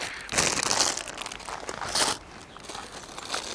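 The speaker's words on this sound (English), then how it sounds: "There's a lot of rustling going on over there." A large mail package is handled close by, with bursts of crinkling plastic and paper crunching and a tearing rip, loud and irregular with short pauses between handlings.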